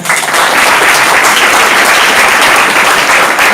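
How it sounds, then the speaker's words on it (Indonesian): Loud, dense applause fills a hall at a GP Ansor and Banser gathering in Mimika, Papua, a continuous crowd clapping close up with no break across the moment. "berikan tepuk tangan."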